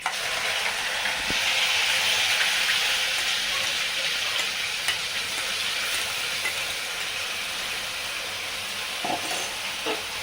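Ground onion and green chili paste hits hot oil in a kadai, a steady, loud sizzling hiss that holds for the whole stretch, with a few faint clicks and no talking.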